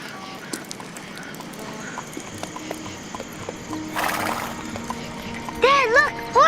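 A horse's hooves clip-clop on an outdoor road, with a whinny and voices rising near the end.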